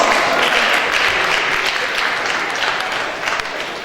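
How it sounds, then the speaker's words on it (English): Loud, dense applause from a crowd at a Harvard lecture event, continuous clapping that slowly eases in volume toward the end. "Let's give her a round of applause."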